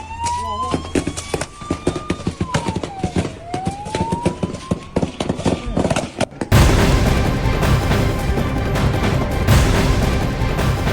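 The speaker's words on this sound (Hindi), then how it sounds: "पूरा इलाका गोलियों की तड़तड़ाहट से गूंज उठता है।" Israeli security forces fire guns in a rapid, continuous crackle of closely spaced shots, with a siren wailing through the first half before the sound becomes a dense roar of firing.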